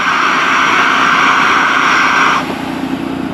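A loud, steady roaring hiss of a Jetboil camping gas stove burner running close by on the ice, then it cuts off abruptly, leaving a quieter background.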